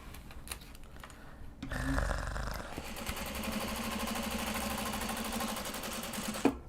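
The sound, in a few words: sewing machine stitching a welt pocket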